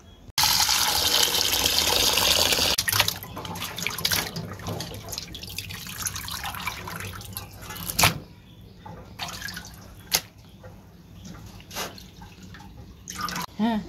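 A running tap gushes loudly into a sink while cut chicken meat is washed in a village kitchen, then the flow eases into splashing and scattered drips with occasional sharp knocks.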